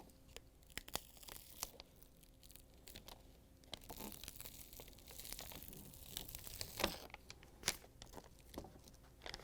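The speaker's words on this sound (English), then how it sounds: "Once you have it marked, we can peel the adhesive paper off." Adhesive backing paper is peeled off a Samsung icemaker fill tube heater (DA47-00192E) in quiet, close crinkling and tearing rips, with scattered sharp crackles and soft handling noises.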